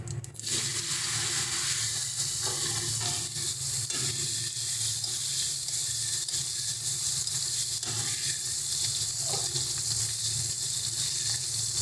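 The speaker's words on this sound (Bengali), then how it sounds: "দেখো কাঁচা কলাটা ভাজা ভাজা হয়ে এসছে" Raw green banana pieces fry in mustard-style fish-frying oil with cumin, giving a continuous close sizzle with occasional scraping and crackling bursts as they are turned in the pan.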